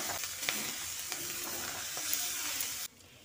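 Banana flower and mustard curry with potatoes and fried lentil dumplings is stirred in a pan, giving a steady close sizzle with scraping strokes that stops abruptly near the end.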